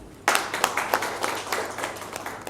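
An awards-night crowd at a film awards ceremony in Dubai breaks into applause that starts abruptly and holds steady as a dense wash of many hands clapping.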